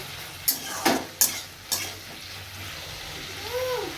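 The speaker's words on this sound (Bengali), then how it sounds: "এখন এই রসুন ফোড়ন দিয়ে পুঁইশাকের চচ্চড়িটা বসিয়ে দিয়েছি" Malabar spinach curry cooks in a pan with a garlic tempering, heard as a soft frying hiss broken by four sharp stirring scrapes early on, then a quieter low simmer, close by with no talk.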